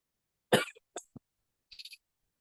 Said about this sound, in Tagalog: Ay, inuubo na.